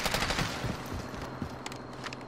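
Scattered bursts of automatic gunfire from Call of Duty Warzone, somewhat distant and muffled, with rapid cracks spread across the moment and no talk.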